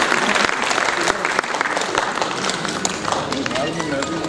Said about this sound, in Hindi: एक बार तालियों के साथ इन कलाकारों के लिए अभिवादन